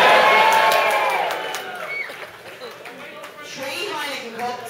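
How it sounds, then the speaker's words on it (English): An audience in a rugby supporters' bar cheers and whoops, a loud crowd swell at the start that fades, then a second lighter rise, with people talking over it. "You can cheer anytime you like."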